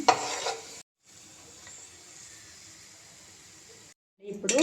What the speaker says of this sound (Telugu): మనం ఆనియన్స్ ఫ్రై చేస్తున్నాము ఇవి బిర్యానీలో బ్రౌన్ ఆనియన్స్ ఆనియన్స్ కోసం ఫ్రై చేస్తున్నానండి